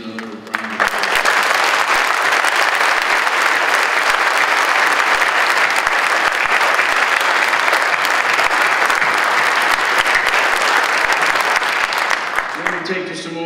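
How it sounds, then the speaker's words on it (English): A large outdoor crowd applauds the women honoured at a monument dedication for the 6888th Central Postal Directory Battalion, dense steady clapping sustained loudly for over ten seconds before tapering off. "Please join me in giving all these wonderful ladies another round of applause."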